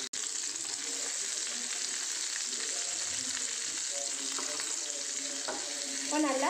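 Shallots, onion and garlic sautéing in oil left from frying chicken, giving a steady close sizzle throughout with occasional scraping stirs and a few light clinks near the end.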